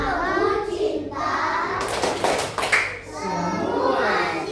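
Children in a classroom clap out a rhythmic clap chant, a burst of quick loud hand claps in the middle set between bouts of group chanting voices.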